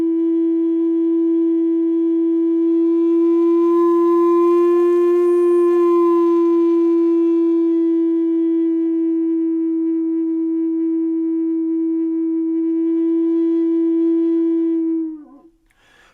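A Native American flute holds one steady pure tone for about fifteen seconds, swelling slightly louder and then easing back as breath pressure changes, before it stops abruptly; no one talks.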